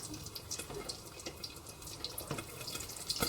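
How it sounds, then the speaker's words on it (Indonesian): Water pours into a cooking pot on a lit stove while preparing spicy sour fish asam pedas, a steady splashy trickle running throughout without talk. "Kita masukkan air terlebih dahulu, apinya dihidupkan."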